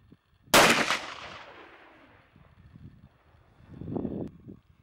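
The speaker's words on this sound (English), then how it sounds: "Bang! First shot!" A single loud, sharp gunshot aimed at flying clay disks cracks close by and decays into a long rolling echo, followed by a fainter second report or echo a few seconds later.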